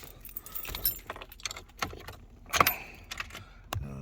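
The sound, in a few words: car keys jangling while starting a Jeep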